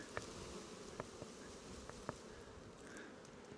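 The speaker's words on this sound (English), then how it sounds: "It's kind of windy, so the bees have a little bit of a hard time locating the hive, but they will get it." A honeybee swarm buzzes steadily around a hive on a windy day, a dense continuous hum with a few individual bees zipping close by the microphone.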